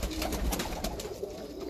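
Breeder pigeons coo in a soft, continuous low murmur close by, mixed with faint shuffling and background noise.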